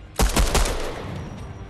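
A quick burst of several rapid gunshots in a building-and-shooting video game, loud and close at first and then trailing off into a reverberant decay, with no talking.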